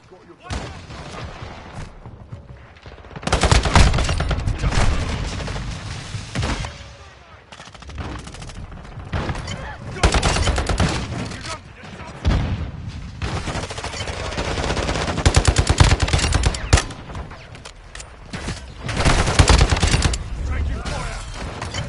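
Call of Duty: Modern Warfare II gameplay in the Haunting event. Several long bursts of automatic gunfire rattle in waves, separated by quieter gaps with game voices and background battle noise.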